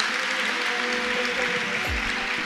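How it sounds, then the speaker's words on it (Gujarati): An audience at a live Aarti and Atmiya Sabha religious assembly claps together in a steady, dense wash of applause that fills the whole span at an even loudness. "એક આના માટે જોરદાર તાળીઓ પાડી લઈએ."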